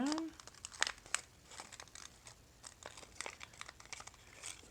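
Origami paper crinkling and creasing as it is folded, with soft scattered crackles close by, and a voice speaking briefly at the start.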